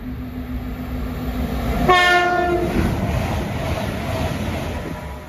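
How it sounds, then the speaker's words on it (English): A cross-country passenger train from Edinburgh to Plymouth passes through Cramlington station, sounding a loud two-tone horn over a steady rumble of wheels and track noise. "Passing through now is a cross-country service from Edinburgh Waverley to Plymouth."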